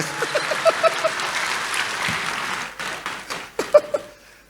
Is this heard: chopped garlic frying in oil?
no